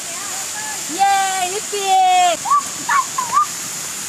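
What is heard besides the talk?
waterfall at Karjat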